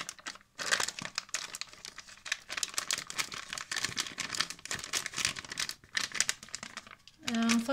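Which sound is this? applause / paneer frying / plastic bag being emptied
plastic bag being emptied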